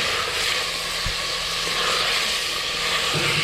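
Sliced onion fries in oil in a pan for chicken yakhni. It gives a loud, steady sizzling hiss that lasts throughout, with a few faint clinks.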